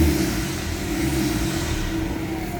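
Ford Ranger TDI with a VGT turbo diesel engine idling low and steady near the vehicle, a continuous deep rumble held at low RPM without voices.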